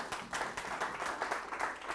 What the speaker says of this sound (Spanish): Regálele un aplauso al Señor, hermano.